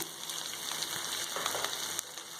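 Spinach sautéing with fried onions in a pan, a continuous crackling sizzle with scattered pops and light stirring, close and even in volume, no speech.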